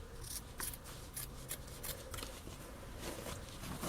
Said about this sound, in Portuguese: esse excesso que sobrou de tecido, a gente pode tirar